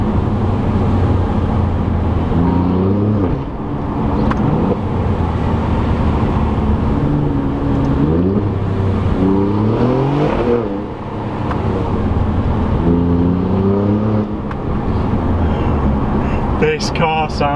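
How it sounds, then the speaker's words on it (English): Alfa Romeo Giulia Quadrifoglio engine heard through an open window, a steady loud drone that rises and falls in pitch through several revving surges, with someone talking over it throughout. "This car sounds incredible."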